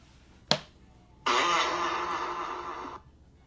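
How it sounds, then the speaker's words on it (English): A microphone-amplified fart from a TikTok clip: a sharp snap-like pop, then a loud, buzzing, raspy blast lasting under two seconds, heard close and alone. "He puts a microphone on his butt, and then when he farts, it just makes it really loud."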